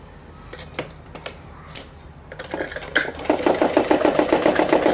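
A sewing machine stitches a Patiala salwar. It opens with a few scattered clicks, then settles into a steady, rapid run of stitching that grows louder and denser through the second half.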